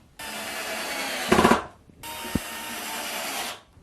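A power drill whirs in two sustained bursts separated by a short pause, driving two screws to hold plywood in place, with a brief rattling scrape partway through the first run. Nearby, no talking.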